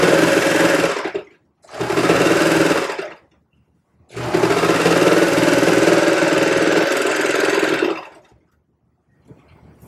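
Sewing machine stitching pieces of baby leggings in three long runs, a steady close, loud mechanical whir that stops briefly between them and then stops for good near the end.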